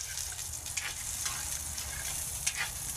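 Food for lomi fries until crisp in a pan with a soft, continuous sizzle and occasional light clicks of stirring. Fairly quiet, with no speech.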